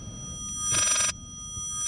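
A single short burst of a bright telephone-style bell comes from a painting in the Layers of Fear horror game, loud against a low background hum.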